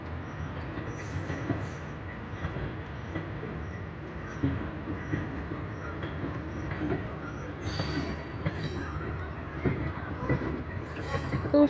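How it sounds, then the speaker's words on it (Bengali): A train rolls past nearby as a steady, continuous rumble with rattling and clatter that holds evenly throughout, with no clear voices over it. "পাশ দিয়ে আর একটা ট্রেন চলে গেল"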